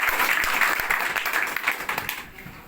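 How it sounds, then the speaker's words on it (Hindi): Audience applause in a hall, a dense broadband patter of many hands clapping that stays loud and steady, then gradually thins and fades toward the end. "ताली बजा सकते हो।"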